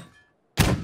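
A mortar firing in PUBG, one sudden heavy thunk that cuts in after a brief near-silence and holds loud to the end.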